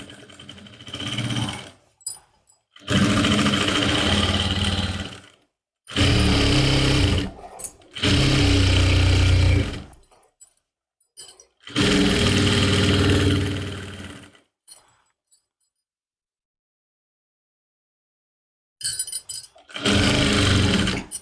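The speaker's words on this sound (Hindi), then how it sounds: "अभी इस निशान के ऊपर से हम सिलाई लगाएंगे।" A sewing machine stitches trouser fabric along a marked line in repeated bursts of fast whirring, each run lasting a few seconds and broken by pauses, with a long silent gap before two short final runs.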